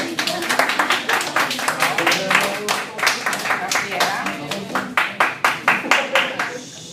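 Audience clapping in a classroom presentation setting, a fairly sparse group of hands producing distinct, uneven claps that settle into a quick rhythmic pattern, moderately close, with faint voices underneath.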